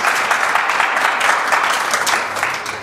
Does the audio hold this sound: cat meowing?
no